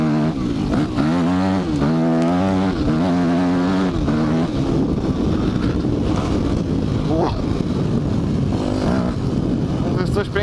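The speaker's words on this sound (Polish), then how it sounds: "Pokażę wam teraz, jak się tym przyspiesza bez żadnego obciążania kierownicy" Enduro motorcycle engine revving up loudly and steadily close to the microphone, with wind buffeting throughout.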